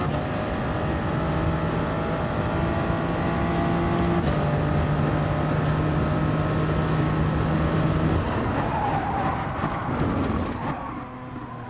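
A BMW race car in Gran Turismo Sport drones at steady high revs, with shifting engine tones and gear changes, then a rougher, scrubbing tire noise near the end as the pitch drops.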